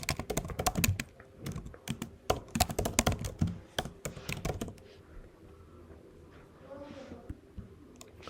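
Rapid bursts of keystrokes on a computer keyboard as an email address is entered, loud and close, clustered clicks for about five seconds before tapering into quieter room noise with a faint voice.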